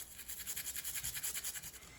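A brush scrubs the case of an old G-Shock G-7700 watch in quick, steady back-and-forth strokes, a close, hissing scratch with an even rhythm.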